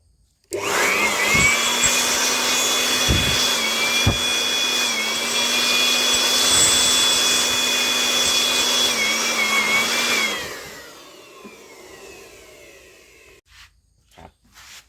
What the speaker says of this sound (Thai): เดี๋ยวเป่าให้น้ำมันแห้งก่อนนะครับผม